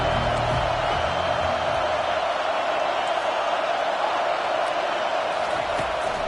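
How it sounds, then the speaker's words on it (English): Football stadium crowd on a third-down defensive play, a loud, dense, continuous roar of many voices holding steady throughout. "Decibels rising as the crowd gets behind this defense on 3rd down."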